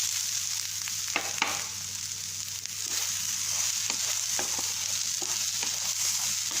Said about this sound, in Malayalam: തേങ്ങ ഇതിൽ കിടന്ന് നല്ലോണം വറക്കണം.